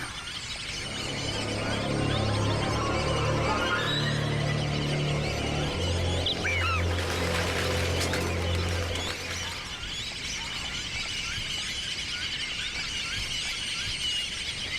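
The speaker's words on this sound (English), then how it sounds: "The messages that the ducks send back and forth are the ambient sound of nature." Ducks call back and forth in a steady outdoor chorus, with quacks and squeals layered over a constant background of nature sounds.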